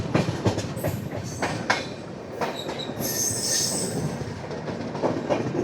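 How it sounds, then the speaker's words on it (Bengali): The 12496 Pratap Superfast Express crosses points while changing tracks near Old Kanpur, with a loud rolling rumble, irregular wheel clacks and bursts of high metallic wheel squeal close by; no voices. "ওই দেখো ট্রেনটা জুম করে দেখালে দেখো লাইন চেঞ্জ করছে।"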